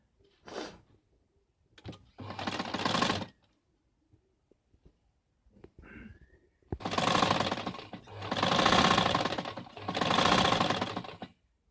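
Sewing machine stitching a ladies suit collar, running in loud mechanical bursts, a short one early and then three long sustained runs, separated by quiet pauses with small handling clicks.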